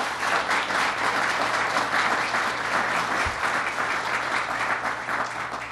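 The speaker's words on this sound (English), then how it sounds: "Let's give them all a round of applause." A crowd at a government funding announcement claps steadily and fairly loudly for several seconds, an even, continuous patter of many hands with no speech over it.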